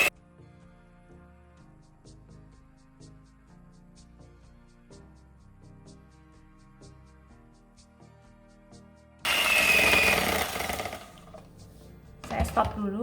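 An electric hand mixer beats butter and sugar for a butter cake, coming in as loud, steady whirring bursts near the end, following a stretch of soft background music with no mixing.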